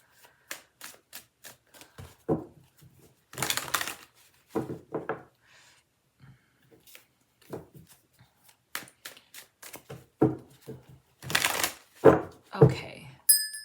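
Tarot cards being shuffled by hand, a run of quick crisp riffling bursts and soft slaps with brief pauses between, close and fairly loud.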